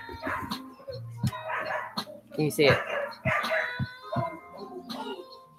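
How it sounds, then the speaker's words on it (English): Neighbourhood dogs barking outdoors on communal grounds by a residential road, repeated yapping and barking at middle distance, partly under a person talking close by. "these dogs are just making a whole heap of noise"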